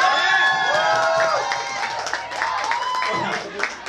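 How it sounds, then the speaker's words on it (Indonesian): A comedy-club audience at an open-mic night claps and cheers for comedian Rindra, with loud overlapping voices and shouts riding over the clapping throughout. "beri tepuk tangan yang meriah sekali lagi untuk Rindra"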